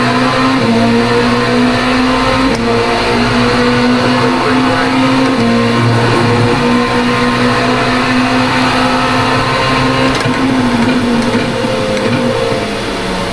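An LMP2 prototype race car in iRacing at Spa, in a multi-class IMSA race, drones loudly and continuously throughout, its engine pitch shifting with gear changes and speed, with no voices.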